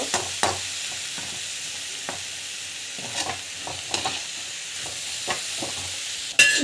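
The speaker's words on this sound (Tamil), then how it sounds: "நல்லா நல்லா வதக்கி வச்சுக்கோங்க." Ingredients being sautéed and stirred in a pan, a soft steady sizzle broken by repeated spoon scrapes and knocks, close and moderately quiet, with no talking.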